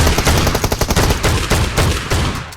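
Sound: gunfire in the video game PUBG Mobile

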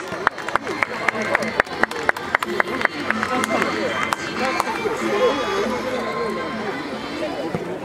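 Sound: audience applause for the mascot Barii-san

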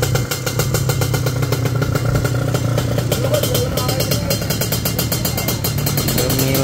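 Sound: racing motorcycle in the paddock

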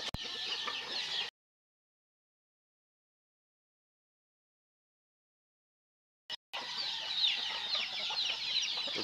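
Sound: chickens and chicks clucking on a farm

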